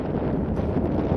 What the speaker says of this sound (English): I think we're getting a gust of wind.